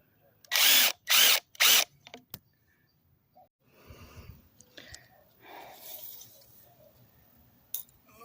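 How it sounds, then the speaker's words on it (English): A power drill whines loudly in three short bursts, drilling holes for dip bars on a homemade pull-up bar, followed by quieter scraping and handling noises nearby. "Now I'm going to drill out the holes for the dip bars."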